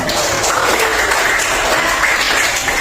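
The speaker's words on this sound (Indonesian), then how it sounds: "yuk boleh kasih tepuk tangan untuk Feza." Steady applause from a group, a dense, continuous patter of clapping hands with no pauses, fairly loud and close.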